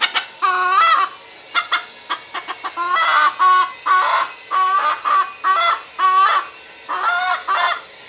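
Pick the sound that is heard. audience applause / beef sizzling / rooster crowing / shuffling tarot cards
rooster crowing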